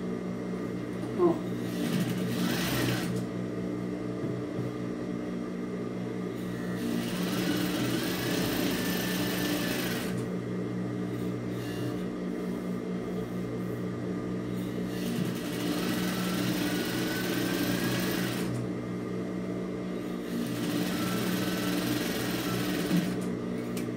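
A sewing machine stitches along the seam of a fabric microwave towel, its motor whirring in steady runs with short pauses between passes, close and moderately quiet, with a voice speaking at times.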